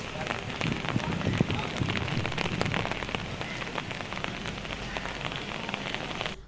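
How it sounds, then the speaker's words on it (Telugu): Heavy rain pours steadily over Hyderabad, drops pattering hard on surfaces in a dense continuous hiss with scattered sharper splashes. "పరిగిలో కూడా వాన దంచి కొడుతోంది"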